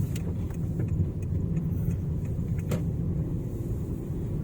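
A car drives steadily along Road 2341 near the Huai Tha dam in Khun Han, Si Sa Ket, Thailand, with an even low engine and tire rumble and a few faint passing ticks.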